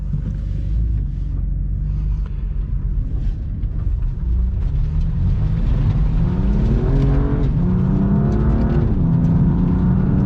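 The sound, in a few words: 2020 BMW M2 CS engine while driving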